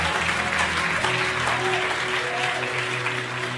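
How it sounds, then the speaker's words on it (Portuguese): Church congregation applauding during a sermon, a steady, loud wall of clapping throughout, with sustained low musical tones running underneath. "pode aplaudir mais forte."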